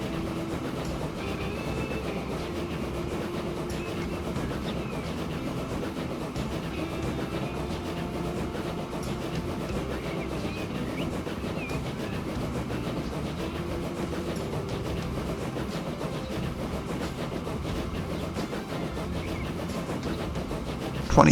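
A slow, weak locomotive in Transport Fever 2 labours up a grade at under 30 km/h, giving a steady, unbroken rail rumble and drone that stays at an even moderate level for the whole stretch.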